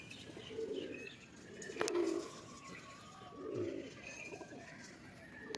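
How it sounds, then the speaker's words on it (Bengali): Pigeons at a loft coo in soft, repeated rolling calls, several low phrases spaced about every second or two, fairly close, with a sharp click and light background rustle. "দেখুন বন্ধুরা এইসব পায়রা হাতছাড়া করবে না"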